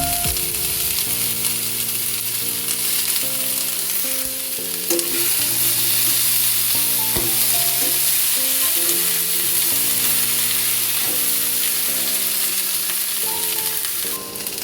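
Vegetable stems frying with turmeric in a Bengali lau shak curry, a loud continuous sizzle with stirring scrapes throughout, with background music also playing.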